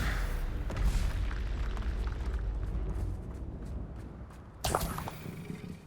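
Spell impacts in Hogwarts Legacy combat, including Stupefy, Confringo and Bombarda, with loud booming thuds and whooshing bursts over rumbling noise, a sharp crack near the end.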